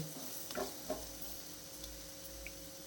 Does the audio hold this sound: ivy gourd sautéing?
yes